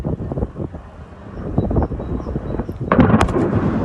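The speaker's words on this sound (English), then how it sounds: "Ooh, nice explosion there." An explosion from a drone attack over Russia rings out as a sudden loud boom with rumbling, crackling bursts after a stretch of windy, rumbling background noise.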